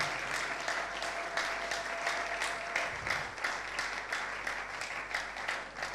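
A church congregation applauds during a Christian faith conference sermon, steady dense clapping filling the whole stretch at an even, moderate level with a faint crowd murmur underneath.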